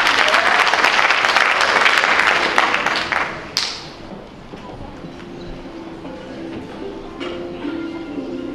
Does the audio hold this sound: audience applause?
yes